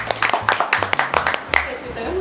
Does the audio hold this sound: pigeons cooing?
no